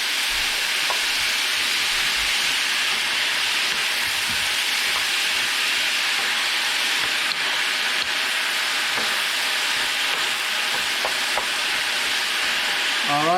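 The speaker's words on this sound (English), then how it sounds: "Stir fry Romanesco broccoli with beef." Romanesco broccoli and beef stir-fry in a pan, giving a steady, loud, continuous sizzle with occasional clicks of stirring throughout, no voices.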